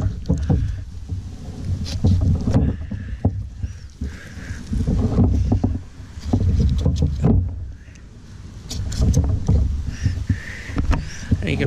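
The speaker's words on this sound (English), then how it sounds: "And you can probably hear my knife." Knife blade cutting through the tail of a snapping turtle during butchering, heard as repeated scraping, crunching strokes close up, with rustling and handling noise throughout.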